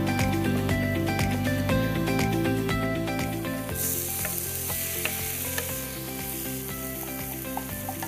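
Onions roast in a pan with coriander powder and garam masala, giving off a steady, dense sizzle. Loud background music plays throughout.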